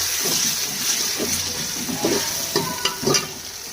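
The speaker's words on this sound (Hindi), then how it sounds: "अदरक लहसुन को 1 मिनट तक फ्राई करेंगे" Ginger garlic paste sizzles steadily in a hot pan as a spoon stirs through it, giving a constant close frying hiss broken by soft scraping and clacking strokes against the pan.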